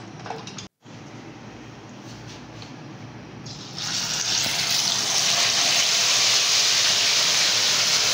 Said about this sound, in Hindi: कढ़ाई लेंगे और उसमें ऑयल डालेंगे